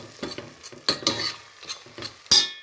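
A spoon scraping and knocking irregularly against a pot while stirring a fish kofta mixture in olive oil, several close, distinct strokes over a light sizzle, without any talking.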